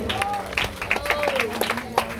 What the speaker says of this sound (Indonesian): Beri tepuk tangan yang meriah untuk regu B.